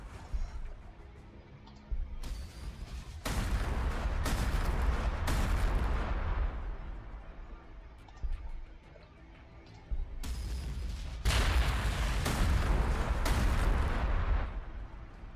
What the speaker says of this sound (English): Let's at least have the artillery do some shelling.